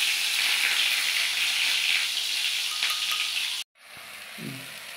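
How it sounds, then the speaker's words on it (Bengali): Tomato fries in hot oil with spices, making a loud, continuous sizzle that cuts off abruptly before a quieter hiss returns with a low clunk. "টমেটো দিয়ে নেব তেলে"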